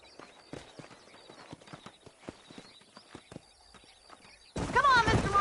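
Horse hooves clip-clop steadily at a walking pace in the Western video game Red Dead Redemption, faint under a stretch of dialogue, before a sudden louder burst of sound takes over near the end.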